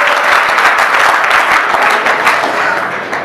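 Loud, dense applause from an audience at a Hindi poetry recital, many hands clapping continuously and close, filling the whole stretch with a steady roar before easing slightly at the end.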